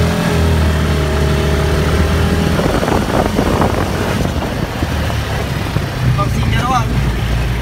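Engine of a Fin Komodo 250cc off-road car accelerating, a steady loud mid-pitched drone with rising revs, close by, with people talking over it.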